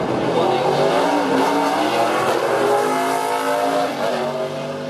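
Marcus Ambrose's race-winning NASCAR stock car roars loudly at an Adelaide motorsport festival, its engine note steady and close with rising revs and a hint of tire squeal, under faint commentary.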